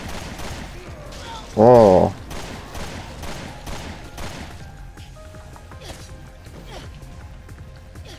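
Gunfire from an assault rifle in the video game Resident Evil Revelations 2, rapid repeated shots over game background noise, with a brief loud tone early and a short exclamation from a voice.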